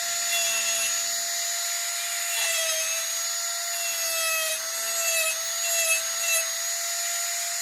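Wooden mouse figure being carved and smoothed around the eye and front leg, with a steady, close high-pitched rotary tool whine that runs continuously and shifts slightly as it bites into the wood.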